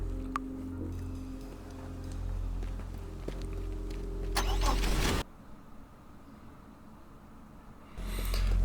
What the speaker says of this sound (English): We're going to take this little nugget car and we're now going to drive over to this Jeep